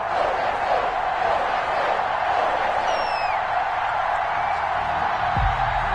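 Dense stadium crowd roar in an EA Sports football game between the Washington Football Team and the New England Patriots, a loud continuous wash of cheering with a few whistles rising through it.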